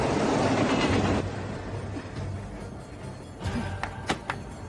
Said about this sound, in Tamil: திரும்பி பாரு, ட்ரெயின் வருது.